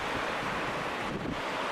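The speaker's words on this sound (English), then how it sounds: "It's kind of windy, so you can probably hear the wind blowing in the background here." Steady wind roars across the microphone beside a bay, a loud continuous broadband rush with no talking.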